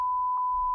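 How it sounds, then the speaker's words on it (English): A steady, loud electronic censor beep holds one flat tone without a break for under a second, alone with no voices. "I'm just gonna cut that bit out or fully beep it"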